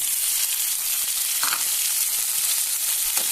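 Tomatoes frying in a hot pan for an Assamese fish curry, a steady close hiss and sizzle throughout with a couple of faint stirring clicks, no voices.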